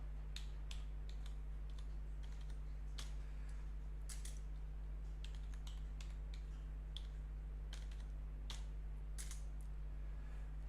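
A new password is typed on a computer keyboard in quick, soft key clicks in short irregular bursts, faint over a steady electrical hum.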